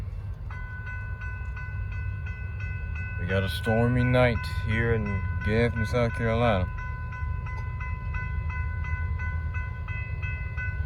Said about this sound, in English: We got another long NS 241 tonight. This train is huge.